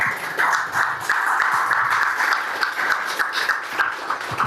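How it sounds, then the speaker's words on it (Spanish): Audience at an awards ceremony for sports recognitions applauds steadily, a dense wash of many hands clapping at close to moderate distance with a few louder individual claps, sustained for several seconds. "Un fuerte aplauso para Michael David Glennon Heights"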